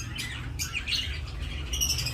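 Pet birds kept as a hobby chirp and tweet in a steady run of short, bright calls, fairly close, with no talking over them.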